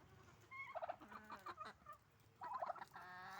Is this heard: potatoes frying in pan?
no